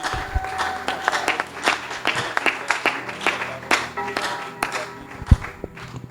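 A church congregation breaks into sustained, uneven clapping after a Bible reading, individual claps crisp and scattered, with a few thumps and faint voices mixed in.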